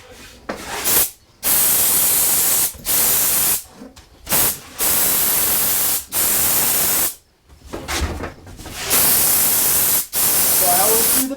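A Critter spray gun sprays wood finish in repeated loud hissing bursts of one to two seconds each, separated by short pauses as the trigger is released, with a voice speaking briefly between passes.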